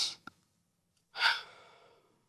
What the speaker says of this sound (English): I take a deep breath in